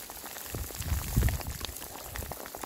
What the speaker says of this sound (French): on a même de la grêle.